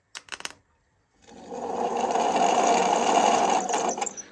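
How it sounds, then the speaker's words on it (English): A John Deere tractor generator, powered from a battery on the armature side, spins up after a few brief clicks and hums with a steady close whir for about three seconds. "if I were to touch this on the armature side, that'll make that generator spin"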